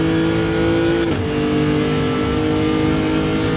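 A race car accelerates flat out in a racing video game; the engine holds a loud, steady high drone, with a brief gear-change dip about a third of the way in before pulling on evenly.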